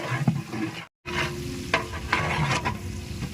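Onions sizzle and crackle steadily in a hot pan for mutton curry, with occasional scraping of a spoon stirring them close by.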